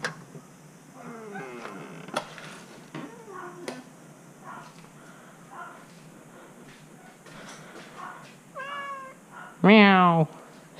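A domestic cat gives several meows, short ones early and a louder, drawn-out one near the end. Between them a person speaks quietly indoors.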